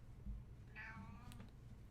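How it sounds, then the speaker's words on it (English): A house cat gives a single short meow, faint and somewhat distant over low background hum, with no talking during the call. "It's my cat meows."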